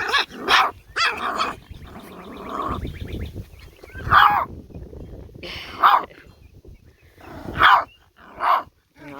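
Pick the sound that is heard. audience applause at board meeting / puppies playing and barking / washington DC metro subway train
puppies playing and barking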